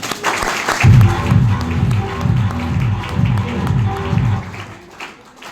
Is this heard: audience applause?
yes